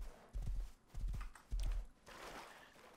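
Horse hooves in the video game Rust clop in a loose walking rhythm, several dull thuds in short clusters, fairly soft and close, with no talking.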